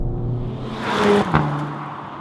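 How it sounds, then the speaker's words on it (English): A SEAT Leon Cupra in Cupra mode blares a loud, rasping exhaust note as the engine revs and rises in pitch, with a sharp crackle near the end before it settles back to a steady drone. "when you're in Cupra mode, the exhausts make quite a rude noise"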